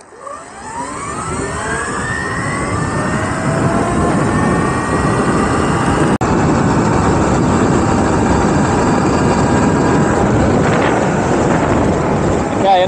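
72-volt electric vehicle accelerating hard from a standstill on a slight uphill during a 0-60 mph run, a rising whine that climbs in pitch and builds into loud, sustained wind rush.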